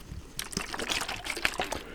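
A handheld water spray bottle fires a rapid series of short, close misting bursts, each a crisp hiss, played unmuffled with no mic cover.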